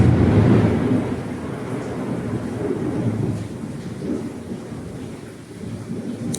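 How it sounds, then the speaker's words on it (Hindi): Deep, rolling thunder rumbles loudly through a heavy monsoon downpour, the low roar swelling and fading over a steady wash of rain. "बिजली भी गरज रही है, बिजली भी चमक रही है, बादल भी गरज रहे हैं"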